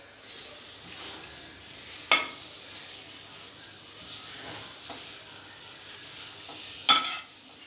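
Washed ajwain leaves dry-roast in a pan without oil, giving a faint steady hiss broken by two sharp scraping clinks of a stirring utensil.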